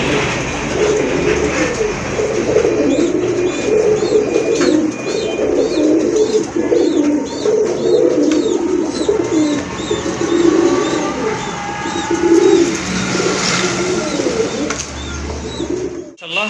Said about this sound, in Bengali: এক জোড়া খয়রি কালারের চিলা কবুতর, অনেক সুন্দর কবুতর